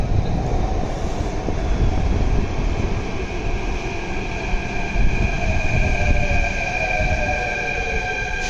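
A Delhi metro train arrives at the platform with a loud, continuous rolling roar and a thin, high wheel whine drawn out over its length, close by and with no one speaking.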